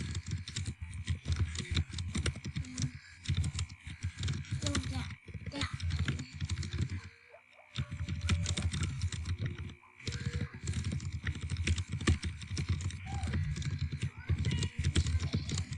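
Typing on a computer keyboard at a desk, bursts of quick close clicks and taps with brief pauses, fairly soft throughout.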